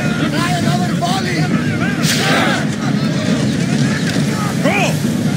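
Ship volley fire in the Assassin's Creed Odyssey naval battle, with bursts of cannon blasts over continuous rushing water and wind, while voices shout orders throughout.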